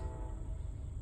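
A train rumbles steadily in the background, a continuous low drone lasting the whole moment with no clear horn or wheel clatter.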